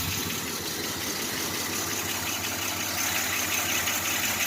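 A cold, carbureted Chevy S10 engine idles steadily to warm up, a close, continuous rumble with an even low throb and no voices.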